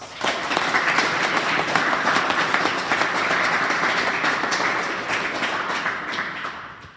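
A crowd claps for wrestlers at a school wrestling awards ceremony, with continuous, fairly loud applause that holds steady and then tapers off near the end.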